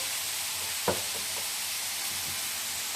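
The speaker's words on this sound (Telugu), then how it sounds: "ఈ ఆనియన్స్ అనేది మంచిగా ఆయిల్లో మగ్గేంత వరకు మగ్గించుకోవాలి" Onions sautéing in oil in a pan give a steady, fairly quiet sizzle throughout, with a brief knock of a stirring spoon near the start and faint scraping stirs later.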